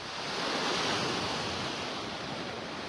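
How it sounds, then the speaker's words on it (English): Ocean surf washing steadily onto the beach at Pelican Bay in Naples, Florida, a broad continuous wash of breaking waves, close and fairly loud, with no voices. "In and out of the waves."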